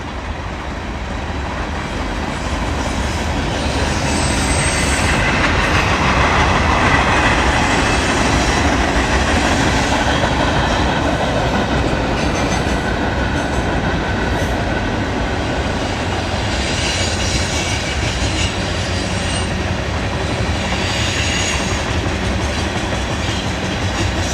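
A Norfolk Southern 38A freight train led by two locomotives rolls past close by, with a continuous loud rumble and rhythmic wheel clatter that holds steady for over twenty seconds, without a clearly distinct horn blast.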